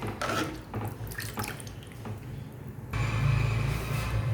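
Water is poured into a pot of bathua kadhi cooking on the stove: scattered clinks and drips at first, then a sudden steady pour that continues to the end, heard close with no talking.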